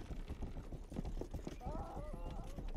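Horse-drawn carriage hooves from the video game Rustler, a steady clip-clop of multiple hoofbeats under a voice talking throughout, with a brief tonal creak or whinny-like sound near the end.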